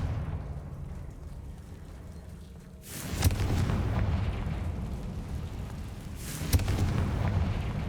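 Two Confringo spell explosions in the Hogwarts Legacy video game, each a sudden sharp blast followed by a rumbling burst, the second a few seconds after the first, over quiet game ambience.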